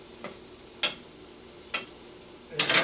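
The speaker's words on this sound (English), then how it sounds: "stir just a little bit again so we don't burn it" Onions and cremini mushrooms are stirred in a pan, with a few short scraping strokes spaced apart over a faint sizzle and a longer rustling stir at the end.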